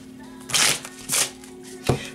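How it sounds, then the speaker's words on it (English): Tarot cards shuffled by hand in short riffling bursts, three quick close shuffles separated by brief pauses over a faint hum. "Let me just shuffle one more time."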